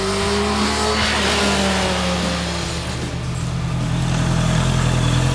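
A Honda CBR650F motorcycle accelerates out of a corner on a mountain road. The engine is loud and close with a sustained, rising roar and a climbing pitch, with no voices.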